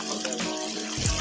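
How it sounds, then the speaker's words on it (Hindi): Steady rush of flowing rainwater, loud and close, like a strong stream pouring from a pipe or tap. "कितना पानी आ रहा है देखो"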